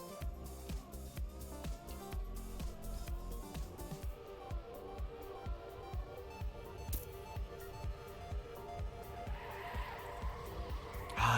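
Race car engine in TrackMania revving hard with repeated tire squeal and skidding through a drift, a steady loud engine drone with rhythmic pulses and a rising burst at the end.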